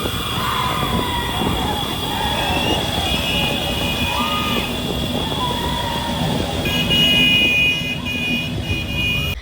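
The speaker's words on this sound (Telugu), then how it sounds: "ఏంటి ఇంత హారన్లు కొట్టుకుంటూ వెళ్తున్నారు" Vehicle horns honk repeatedly on a street in Kurnool during Ganesh Chaturthi, amid traffic taking a Ganesha idol for immersion; overlapping toots sound steadily over a busy, continuous road din.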